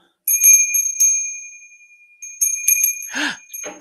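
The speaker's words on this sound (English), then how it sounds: "We'll ring the bell." A small bell is rung twice, each time a bright ringing strike that decays slowly. A short voice-like sound and some rustling follow the second ring.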